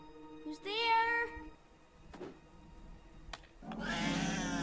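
A cat in the Coraline film gives a drawn-out meow near the start, followed by quieter rustles and clicks, then a burst of broadband noise at the end.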